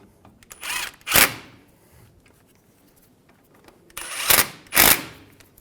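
Brake caliper bolts on a 2003-2008 Honda Pilot are run down with a power tool in two pairs of short, sharp whirring bursts, close by with quiet gaps between.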